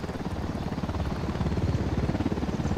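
A helicopter in Ghost Recon Wildlands passes overhead with a loud, steady rotor chop that thumps rhythmically with no voices over it.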